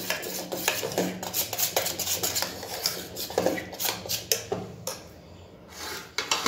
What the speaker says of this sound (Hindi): अच्छे से पूरा इसको मिक्स कर ले कि कलर बैटर में अच्छे से मिक्स हो जाए